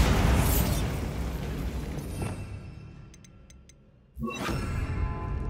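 Bombarda explosion spell in Hogwarts Legacy, a loud rumbling blast that decays into a quiet stretch with faint ticks, then a second sharp boom with sustained roar.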